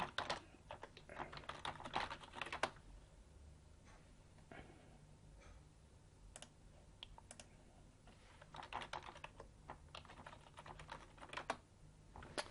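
A password is tapped out on a computer keyboard in quick, fairly faint bursts of keystrokes with short pauses between them, with no voice.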